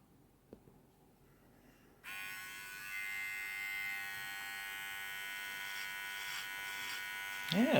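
Electric 2-in-1 pet hair vacuum trimmer switched on and running as a cat groomer, a steady close buzzing hum that starts abruptly and holds evenly, with a faint touch near the end.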